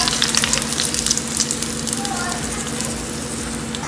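Dal poured onto a hot tempering of crushed garlic in a pan, setting off a loud, continuous sizzle and frying crackle that slowly settles, close up.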